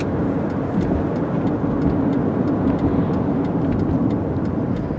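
A 2002 Buick Rendezvous FWD SUV accelerates and shifts up through the gears, heard from inside the cabin, a low rumbling hum with road noise and faint repetitive ticking, no voices.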